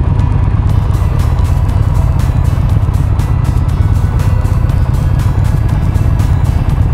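A Honda Rebel motorcycle with a parallel-twin engine passes close by, its exhaust blending into a loud, continuous engine and wind roar from another motorcycle on the move.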